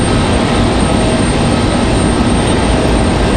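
Rolls-Royce Trent engines on an American Airlines Boeing 777 at Raleigh-Durham airport roar as a steady, loud, broadband rumble close by, with strong wind and no talk.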